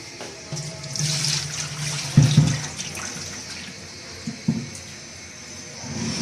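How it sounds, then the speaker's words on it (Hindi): Water pours and splashes out of one kilogram of soaked rice as it is strained, a steady running trickle with a couple of louder sloshing bursts midway. "ये मेरे पास 1 किलो चावल है, इनका पानी मैं छान लेती हूँ।"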